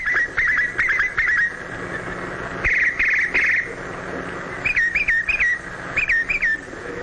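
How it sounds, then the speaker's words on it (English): Young birds cheep at a spring pond in New England, giving repeated high, bright chirps in quick clusters over a steady insect-like background hum, close and clear with no talking. "cheeping with delight as they go."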